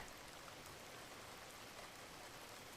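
Steady rain falls as a dense, even hiss of drops with no pauses, faint and close, and no voices.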